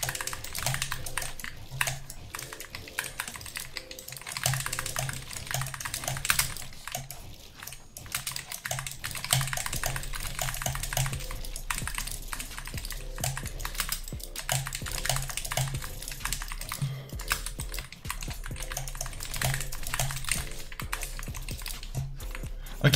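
Rapid keyboard typing from a mouse-and-keyboard setup while playing Fortnite, a steady stream of close clicks and taps running throughout over background game sound and music.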